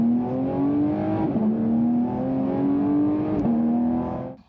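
A naturally aspirated Porsche 911 GT3 RS engine revs loud and close, a smooth steady howl with brief dips between rising pulls, ending in a sharp cutoff.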